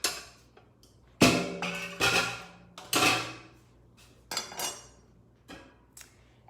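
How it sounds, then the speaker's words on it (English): Cauliflower is tipped into a food processor bowl in several loud, clattering bursts with knocks and rattles, separated by short quiet gaps. "I'm just gonna put all of this cauliflower into the food processor"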